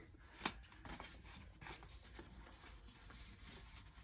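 Scissors snipping red and white striped ribbon ends into dovetails, one crisp close snip followed by softer rustling and handling of the ribbon, with no talking.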